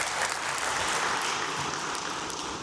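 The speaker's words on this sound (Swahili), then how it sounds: "Tujipigie makofi wanachama." Steady applause from Young Africans (Yanga SC) club members at a club meeting, a dense continuous clatter of clapping hands filling the room at even loudness throughout.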